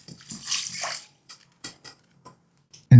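Rice grains being rinsed by hand in a bowl of water for temaki sushi rice, a swishing slosh of water followed by a few soft trickles and drips, ending in a sudden close splash or knock.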